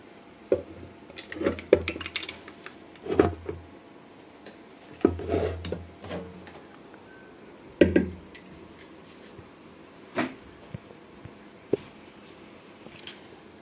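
A cooking pan used for mashing siru pasalai greens is rinsed and handled, giving scattered knocks, scrapes and clinks of metal at close range, spaced irregularly with quiet gaps between.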